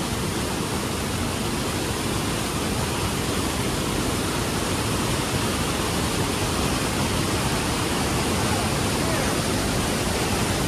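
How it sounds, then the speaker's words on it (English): Niagara Falls thunders at the Cave of the Winds as a dense, unbroken wash of noise, loud and close throughout with no pauses. "hear the thundering of the water, right?"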